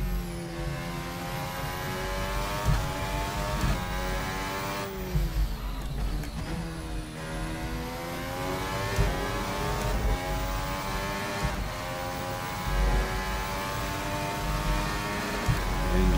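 Formula Hybrid race car driven in Assetto Corsa, a loud high-revving engine whine climbing through the gears with sharp dips at gear changes, continuous for the whole stretch, with no talking.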